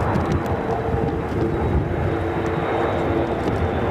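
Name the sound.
Airbus A400M military transport aircraft tactical departure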